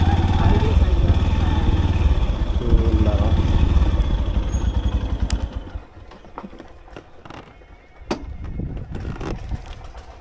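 A motorcycle rolls toward a parking spot with a loud, close engine rumble for about five seconds. It then drops away, leaving quieter clatter and scattered knocks.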